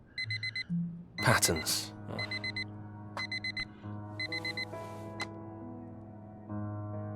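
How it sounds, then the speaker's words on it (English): The alarm clock tone from the video game Fragments of Him: groups of short, high electronic beeps repeat in a steady pattern over a background score, with a voice speaking briefly. "The same alarm tone that Harry can sleep through."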